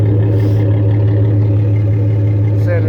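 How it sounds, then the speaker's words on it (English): A Chevy exhaust with a Flowmaster 40 Series dual system and stainless piping to the rear exits through bow tie tips, idling with a loud, steady low rumble up close, no revving. "that's what your 40 series Flowmaster dual sound like with Chevy bow tie tips."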